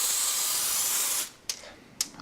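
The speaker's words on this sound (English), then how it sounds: "We're going to spray it with Pam." Pam cooking spray hisses steadily onto a big fork for pressing peanut butter cookies, followed by two short, sharp puffs of spray.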